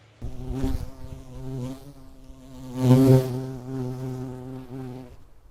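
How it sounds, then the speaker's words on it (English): A bee hovers around a trail camera outdoors, a close, continuous buzzing drone that wavers in pitch and loudness as it moves, swelling louder for a moment as it comes nearest. "Check out this video of this bee I caught buzzing around the camera."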